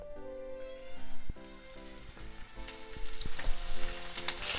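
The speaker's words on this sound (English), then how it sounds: "I'm gonna put in the chicken. Make sure you put the skin side down." Skin-side-down chicken for Japanese chicken nanban sizzles in hot oil in a pan close up, a steady crackling fry that swells louder toward the end.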